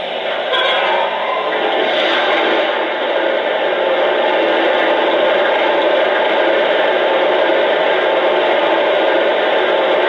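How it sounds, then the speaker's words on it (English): A Lionel Pennsy M1a steam locomotive sound system plays water filling the tender: a steady, loud hiss-and-rush that holds evenly throughout, with a brief clank near the start. "Here's the sound of water being added to the tender."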